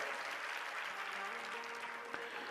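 An audience at a devotional Hindi discourse claps continuously in a soft, even wash of applause, heard from a distance with a low hum running beneath.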